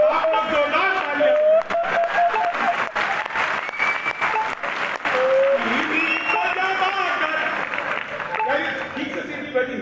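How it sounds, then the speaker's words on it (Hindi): An audience at a comic Hindi poetry gathering in Kanpur claps loudly and steadily for the whole stretch, a dense wash of applause with crowd murmur underneath. "आप लोग जोरदार तालियां।"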